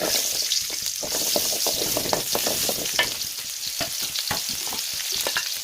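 Steady sizzling of onions frying in hot oil, with crackles and occasional stirring scrapes, close by and with no talking.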